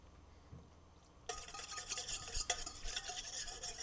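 Apple cider vinegar whisked briskly in a bowl, starting after a quiet moment and then continuing as a steady, close, rhythmic scraping and clatter with no voices.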